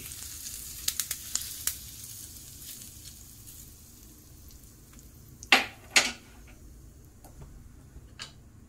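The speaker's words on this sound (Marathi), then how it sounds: "आता या वड्यांवर आपल्याला एक फोडणी टाकायची आहे." Hot tempering with asafoetida and curry leaves poured over sweet, sour and spicy besan vadis gives two short loud sizzling bursts over a faint background hiss, with a few light clicks earlier.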